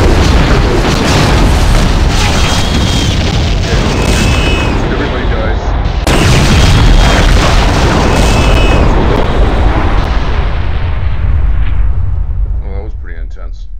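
Starship exploding in a Star Trek versus Star Wars space battle, a long roaring rumble of blasts and booms, very loud and sustained, with a voice under it and a brief fade at the end.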